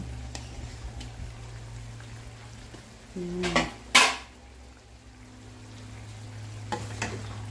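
Chicken hotdogs frying in a pan give a steady low sizzle, broken by a few brief clinks and scrapes of a utensil against the pan near the middle, with no voices.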